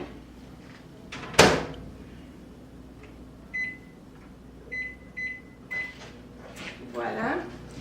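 A microwave oven heating chocolate chips in a home kitchen: a loud door clunk early on, then several short steady beeps spaced apart, a soft hum beneath, and a rustle near the end.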